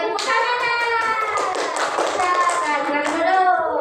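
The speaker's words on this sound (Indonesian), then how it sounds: "Oke, tepuk tangan." Primary schoolchildren clap their hands together in a classroom after a poem reading, the claps running under overlapping excited children's voices that dominate the sound.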